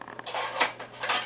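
A spoon, knife and fork are picked up and handled in a home kitchen, with several quick, close metallic clinks and scrapes in a short burst.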